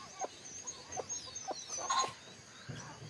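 Chickens and kalij pheasants mixed together on an organic farm, soft close clucks repeating every half second or so with a brief louder call, fairly quiet overall.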